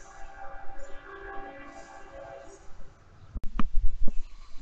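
A train passes somewhere near a car restoration shop, rumbling and clattering with rhythmic bursts and a brief sharp horn-like tone, while people talk over the steady background noise.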